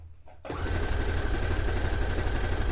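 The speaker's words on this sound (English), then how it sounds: "It takes longer to sew with the stretch stitch, but I think it's really worth it." A sewing machine runs a stretch stitch on fabric for a white dress, starting abruptly after a near-silent moment and then humming and clattering continuously and loudly, close up with no talk.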